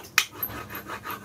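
A short rasping rub as adhesive is pressed down on a homemade honing plate for sharpening hand planes and chisels, one sharp scrape followed by softer repeated rubbing strokes, close and alone.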